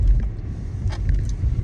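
A car engine idles steadily on a cold day, a low continuous rumble heard from inside the vehicle with faint rustling on top.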